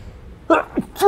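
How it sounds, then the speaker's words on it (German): A single close, loud human sneeze with a short sharp intake, followed by a brief vocal sound, with no talk. "Da musste ich einmal kurz niesen."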